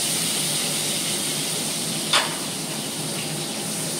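Pumpkin pieces frying in a pan, a steady loud hiss and sizzle of hot oil running throughout with a brief sharp clatter about halfway through.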